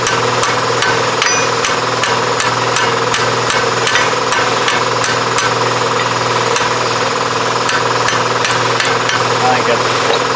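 A hammer taps the front hub out of a 2001 Chevy 1500HD, striking in a steady, evenly spaced series of sharp metallic clicks over a constant low hum.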